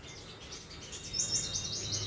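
Five-colour sunbird kept in a cage, giving a quick run of high, thin chirps in the second half over a quiet background.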